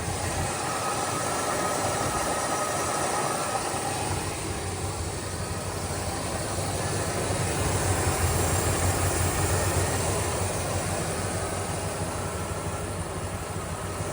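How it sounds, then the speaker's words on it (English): Up close under the hood of a restored 1967 Buick Skylark two-door hardtop, the engine idles with a steady hiss and whir of spinning belts, alternator and radiator fan, continuous and even throughout. "So we'll get in a little closer and hear those belts."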